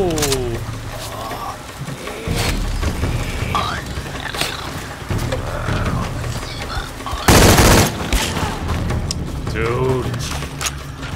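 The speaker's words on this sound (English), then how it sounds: "Just got shot at." Gunfire in Shadow of the Tomb Raider during an enemy ambush, with steady game noise and one loud, sharp burst of shots partway through, heard under a player's ongoing talk.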